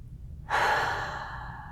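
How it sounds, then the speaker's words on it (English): A single deep, slow exhale close to the microphone follows a moment of quiet, starting abruptly as a soft airy rush and fading gradually against a low background hum. "Take a deep breath."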